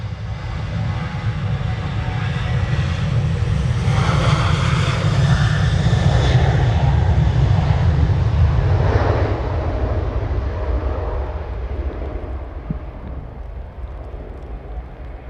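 An airliner departs Manchester Airport in damp, murky weather, a loud sustained engine roar with heavy low rumble that swells and then slowly fades over about fifteen seconds, with no talking.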